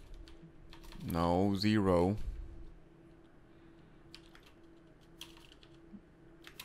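Faint, scattered keystrokes tap on a computer keyboard after a brief spoken word, the clicks light and irregular against a quiet background.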